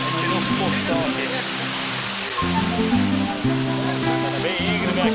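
The Cachoeira Sudeste waterfall in the Atlantic Forest pours steeply into a deep pool, making a loud, steady broadband roar that continues without a break while someone speaks over it and background music plays.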